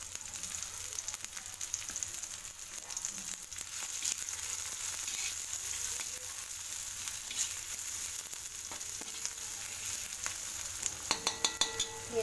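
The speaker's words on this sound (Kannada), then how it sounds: "ಈರುಳ್ಳಿ ಫ್ರೈ ಆಗಲಿ" Onions sizzling steadily in hot oil in a pan, with occasional spatula scrapes and a few sharp clinks near the end; close, continuous frying with no talking.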